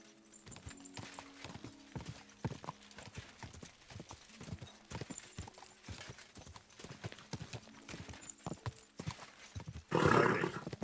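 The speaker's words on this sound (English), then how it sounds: "Your horse nearly trampled me!" Horse hooves clip-clopping in a video game, a close steady rhythmic trot of hard hoof strikes, ending with a brief louder burst.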